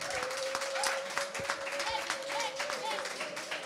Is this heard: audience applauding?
yes